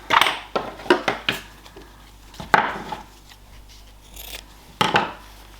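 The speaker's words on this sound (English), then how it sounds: "Trim your seam allowance at the point." Scissors trim the fabric seam allowance at the point of a handmade golf club head cover, giving a series of short, crisp snips and clicks close by with brief pauses between them.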